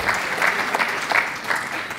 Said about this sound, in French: On les applaudit encore une fois pour ce joli prix,